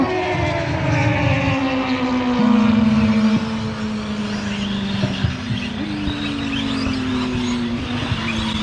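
Tekno EB48.3 RC buggy racing in a B main, its high motor whine rising and falling in pitch steadily and loudly throughout, mixed with other cars and track noise, no talk.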